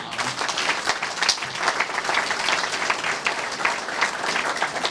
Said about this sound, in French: on peut applaudir les partenaires de ce soir